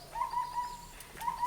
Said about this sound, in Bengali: ঘুঘু পাখি ডাকছে গো।